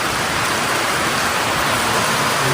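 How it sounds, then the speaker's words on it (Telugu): Heavy rain pours down at Penchalakona in a loud, steady, close wash of noise that never lets up, with no talking. "చూడండి వాన ఒకసారి ఎలా పడుతుందో."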